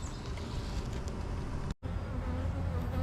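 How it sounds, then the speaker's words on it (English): Dense, steady buzzing of honey bees at a hive crammed full of bees in a Georgia bee yard, a continuous close swarm drone with a brief dropout partway through. "This one is so packed full of bees that I'm about to give them another body"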